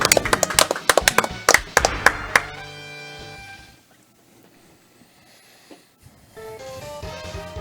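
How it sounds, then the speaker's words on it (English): A burst of several hand claps and taps in quick, uneven rhythm during a Mega Man X randomizer speedrun race, then a sustained musical tone fading into a quiet background. "if we clap every time Aura beats a boss here"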